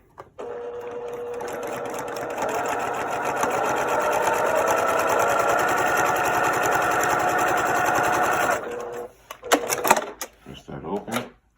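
A sewing machine stitches a quilt block in one steady run of rapid mechanical whirring for several seconds, then stops, followed by handling clicks and rustles.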